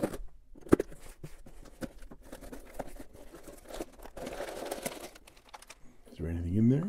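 A cardboard package box holding a pen nib unit is opened up close, giving crackly tearing and rustling handling noises under intermittent speech.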